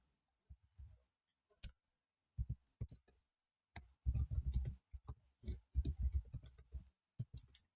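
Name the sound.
typing code on a computer keyboard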